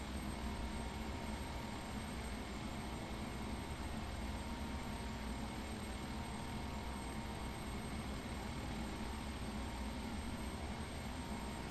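Steady, dense engine drone of an airplane taxiing in Microsoft Flight Simulator X, a continuous broadband hum and whine at even loudness throughout, with no voices.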